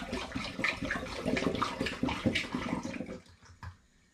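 Cranberry juice pours steadily into a glass demijohn in a continuous gurgling stream, loud and close for about three seconds before tapering off to a few last drips.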